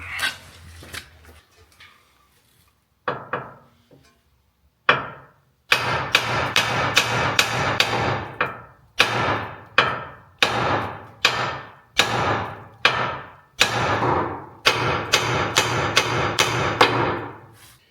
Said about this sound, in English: All I got is a hammer, so that's what I got.